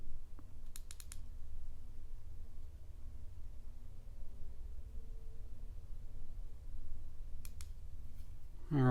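Side button of a Warsun T9 Pro flat-style EDC flashlight clicked, sharp quick clicks in a short burst early on and another pair near the end, close and crisp over a quiet room hum.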